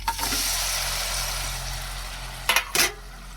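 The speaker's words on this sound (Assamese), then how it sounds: "গুড়খিনি ধুনীয়াকৈ গলি যোৱালৈকে অকণমান ভাজি ল'ম।" Jaggery sizzles as it fries in hot mustard oil with five-spice, a steady soft frying hiss throughout, followed near the end by two brief clattering stirs of a utensil in the pan.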